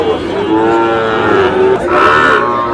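Cattle at a cattle market low in long, loud, drawn-out moos, one call rolling into the next close to the listener, with no talking.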